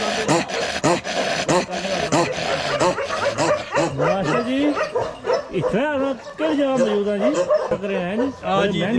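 Several Bakarwal Ladakhi dogs barking repeatedly nearby, sharp overlapping barks mixed with whining yelps, while people talk over them.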